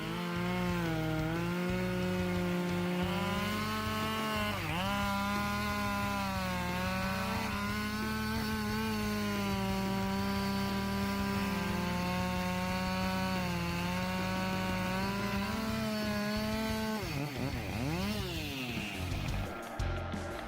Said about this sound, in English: This chainsaw has impressive cutting power, handling dry wood with ease and exceptional speed.